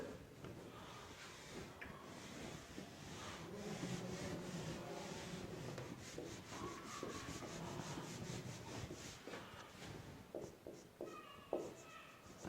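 Chalk or marker writing being rubbed off a classroom board during a trigonometry lesson, a steady scratchy wiping that runs for several seconds with brief pauses and soft taps near the end.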